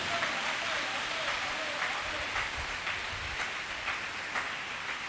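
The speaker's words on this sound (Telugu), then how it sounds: "నమ్మిన వారందరూ గట్టిగా చప్పట్లు కొట్టి ప్రభువును స్తుతించండి" A church congregation claps loudly in praise during a live prayer service, a dense, steady wash of applause that runs throughout, with a voice faintly audible underneath.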